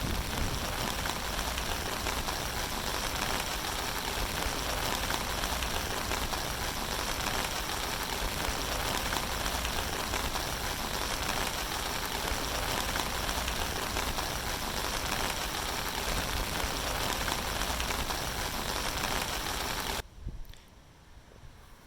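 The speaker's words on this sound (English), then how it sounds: "it is supposed to rain for the next few days" Steady rain pours onto linked 49-gallon plastic rain barrels set up as backup reservoirs, a dense continuous hiss and patter that cuts off abruptly near the end, leaving a quieter background.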